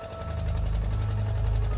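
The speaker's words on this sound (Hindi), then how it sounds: "ये जनरेटर की आवाज है" A steady, rumbling engine drone with a rapid mechanical chugging pulse, loud and continuous throughout, from an old generator running nearby.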